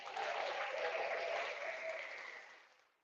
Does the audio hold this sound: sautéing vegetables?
no